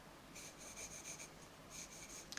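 A pencil with a cut, broadened lead sketches broad strokes on paper, giving a dry scratchy rasp in two clear bursts separated by a brief pause, close and fairly quiet.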